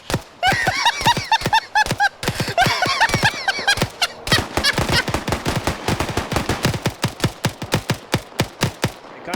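Automatic gunfire from a weapon in a military video game: loud, rapid bursts of shots, then a long, evenly spaced string of single cracks close by, with a voice speaking briefly at the start.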